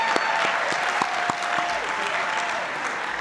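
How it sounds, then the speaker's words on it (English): Graduating MBA class of 2017 at a business school recognition ceremony applauding themselves, a dense steady wash of many hands clapping throughout, loud and sustained with no voices over it. "Give yourselves a round of applause."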